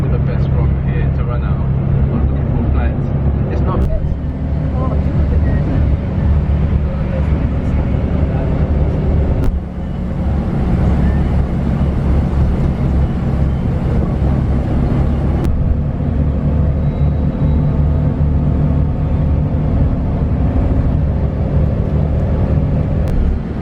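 A bus travelling from Tirana toward Montenegro gives a steady, loud, low engine and road rumble that runs unbroken, with a few faint clicks over it.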